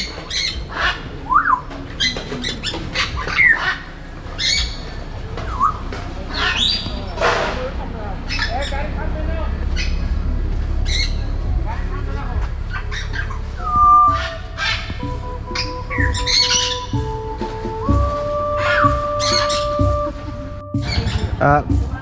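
Caged birds at Tilagarh eco park in Sylhet squawk and chirp in scattered harsh calls and whistled notes, mixed with people chatting nearby and a low rumble of background noise.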